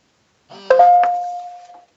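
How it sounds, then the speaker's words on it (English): A phone notification chime rings out once, clear and close: a bright tone that sustains and fades over about a second, with no talk over it. "It's my fucking phone, yo."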